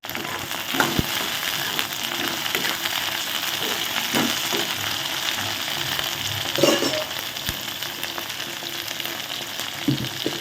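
Chopped okra sautéing in a pan for a Tamil-style stir-fry, a steady close sizzle with occasional scraping and clinks of a stirring spoon, no talk.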